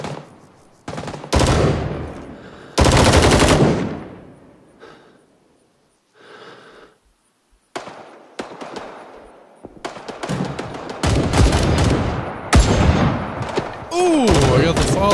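Loud bursts of gunfire from an M79 grenade launcher in the video game Rising Storm 2, with several sharp blasts and echoing reports spread across the stretch, some dense clusters near the end.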